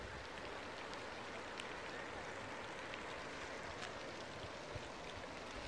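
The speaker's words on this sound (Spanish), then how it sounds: "escuchen la lluvia" Heavy rain pours steadily outdoors in the Guatemalan countryside near Varillas, a constant dense hiss of falling water at low level with no pauses or voices.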